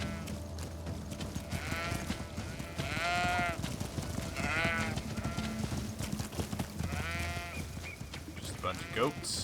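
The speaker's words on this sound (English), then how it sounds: "Just a bunch of goats." Goats bleat repeatedly in the video game Greedfall, several wavering calls spaced a second or two apart, fairly close, over a low ambient game soundscape.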